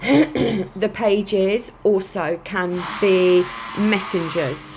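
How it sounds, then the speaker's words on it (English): A neighbour's building work sends loud, sustained electric drilling through the room, a high whine that runs steadily from about three seconds on beneath someone speaking throughout. "a neighbour of mine is having some work done and the drilling is extremely loud"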